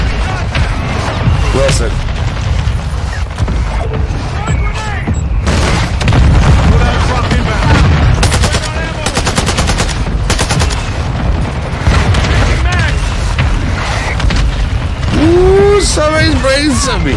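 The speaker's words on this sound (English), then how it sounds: "Friendly mortar strike inbound" Mortar strike explosions rumble through a Call of Duty match, dense booms and bursts of gunfire layered continuously with a player's voice talking over the barrage.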